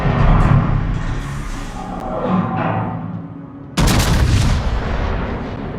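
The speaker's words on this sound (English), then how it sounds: "More shots at the enemy North Carolina." Warship main-battery guns fire in the naval video game World of Warships, loud booming salvos with long rumbling decay, then a sharp new volley crashes in near the end and rolls on.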